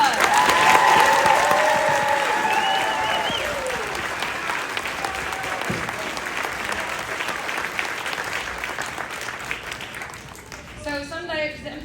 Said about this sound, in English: So everybody give Nick's Peps a round of applause